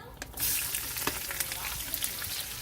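An onion frying in a pan over browned fond, cooked for chicken cacciatore, gives a steady, close sizzle and crackle throughout, with occasional stirring clicks.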